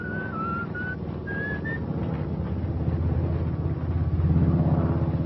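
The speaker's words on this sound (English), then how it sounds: "I gotta practice up my whistling." A person whistles a short tune in a few rising and falling phrases over steady low vehicle rumble. The whistling stops after a couple of seconds and the rumble grows slightly louder.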